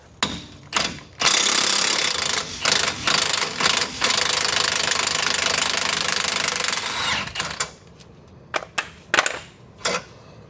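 An impact gun works a suspension bolt on a Mini Countryman R60: loud rattling, hammering bursts, including one long sustained run, separated by short pauses and ending with a few brief chatters.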